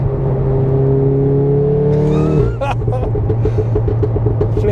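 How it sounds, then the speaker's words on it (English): A turbocharged 520 hp Mk7 Volkswagen Golf R engine drones steadily, then the pitch drops and the engine surges again with fluttering, whooshing sounds as it accelerates, loud and close. "So yes, it's laggy like a good old fast turbo car"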